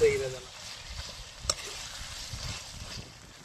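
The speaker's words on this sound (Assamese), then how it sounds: "এতিয়া মাংসটো প্ৰায় ভাজা গেলে আমাৰ।" Meat fries in a pan with a faint, continuous sizzle and a few soft stirring knocks, and a voice can be heard in the background.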